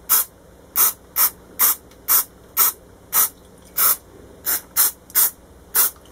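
A trigger spray bottle of 70% alcohol misting onto a succulent plant, about a dozen short sharp hissing bursts at an uneven, fairly quick pace, close and alone.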